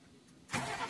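A Tata 2523 BS4 truck engine cranks and catches halfway through, jumping from quiet to a loud, steady running roar close by.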